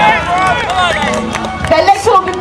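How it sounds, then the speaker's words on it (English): A crowd cheers and claps for strongman competitors doing deadlift reps at a St Patrick's strongman challenge, a loud continuous roar of voices with a commentator's voice carrying over it. "Give them a big cheer!"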